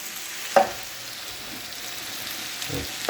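Hamburger soup cooking in a pot, giving a soft, steady sizzling bubble with a couple of brief louder clinks or stirs, fairly quiet and without talking.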